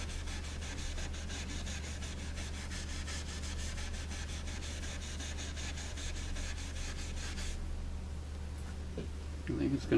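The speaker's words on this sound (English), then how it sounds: "I'm rubbing with the grain to a small spot." A rag rubs along the grain of a wooden radio cabinet in a small spot, giving a steady, close, continuous scrubbing hiss with a low hum beneath, easing near the end as a brief handling sound comes in.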